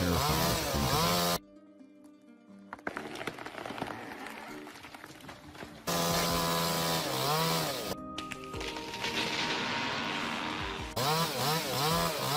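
A chainsaw fells a tree, its loud, close engine roaring steadily and dipping once into lower-revving cutting before surging back to full throttle.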